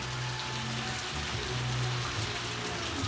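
Steady rain hisses and patters without a break, an even wash of falling drops with a low hum underneath.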